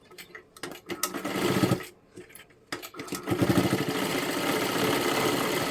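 An electric sewing machine stitches fabric for garment fitting in steady bursts of rapid mechanical whirring, pausing briefly between runs, close and fairly quiet with no talk.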